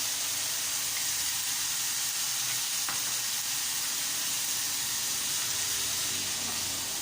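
Tamarind water hits a hot pan of Pad Thai noodles with a loud, steady hiss of sizzling and steam that holds evenly throughout, with a single faint clink of a utensil partway through.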